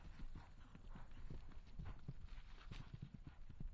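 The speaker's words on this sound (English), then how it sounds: "This horse has a deceivingly huge stride." A horse gallops on an eventing cross-country course, its hoofbeats thudding in a quick, steady rhythm at moderate distance over a constant outdoor background, with no talking.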